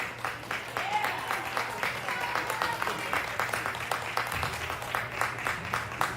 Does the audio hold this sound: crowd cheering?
yes